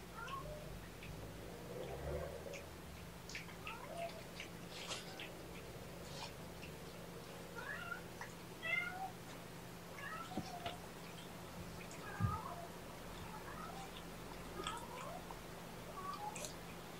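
A house cat meows several times out in a hallway, faint and somewhat distant against a quiet indoor background hum, with short separated calls spread through the stretch.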